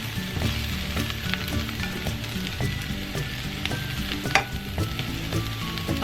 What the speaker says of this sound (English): And now I'm gonna add the broccoli.